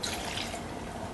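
Water pours into cashew mayo in a kitchen, a brief, soft trickling splash that runs continuously and fairly faint for about a second.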